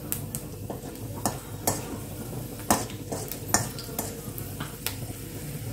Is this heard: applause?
no